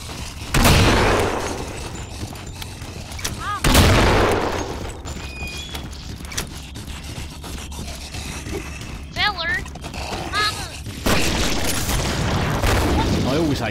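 Grenade launcher explosions in Killing Floor, several loud booming blasts spaced out over the stretch, mixed with gunfire, mechanical clatter and chaotic game noise.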